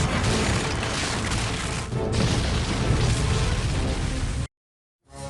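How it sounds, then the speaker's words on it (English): A huge magical explosion bursts loud and dense, rumbling and crackling for several seconds before cutting abruptly to silence, followed by a faint swell. "the beams erupted into a huge magical explosion"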